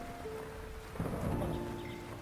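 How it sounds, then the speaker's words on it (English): Steady rain hiss in the farming video game Fields of Mistria, with a low rumble of thunder swelling midway and lingering, heard alone without talk. "Sound of thunder woke me this morning as well"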